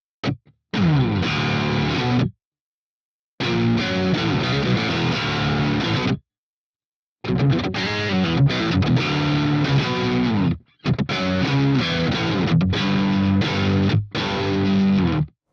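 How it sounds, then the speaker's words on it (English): Heavy electric guitar rhythm through an Archetype Plini X patch with compressor and octave pedal, split chord position; loud distorted chugging bursts separated by short silent gaps, no voice. "I used the compressor and octave pedal in a heavy rhythm patch using a split chord position"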